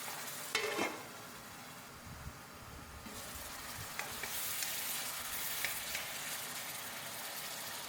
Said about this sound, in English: Next, I'll pour in a little water and let it simmer for a bit.